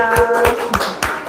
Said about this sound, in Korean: 박수 치면서 한번 마무리하도록 하겠습니다